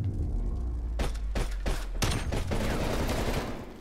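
Rapid bursts of video game gunfire crack over a steady low rumble, with several sharp shots clustered close together before settling into a dense, continuous barrage of fire.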